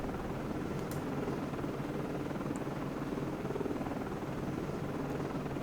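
Helicopter rotor drone from the Cold Waters submarine game, a steady broadband rumble and whine holding at an even level throughout with no pauses, set in a 1984 Atlantic anti-submarine campaign.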